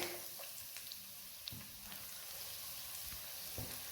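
Garlic dropped into hot coconut oil in a pan, giving a steady soft sizzle and crackle with a few sharper pops, close and fairly quiet, no talking.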